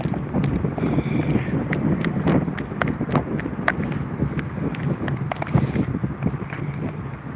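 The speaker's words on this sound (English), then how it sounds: "It's so windy, I'm worried about losing my phone again." Strong gusts buffeting a phone microphone outdoors by a river, a loud, continuous rumbling roar with irregular bumps and knocks.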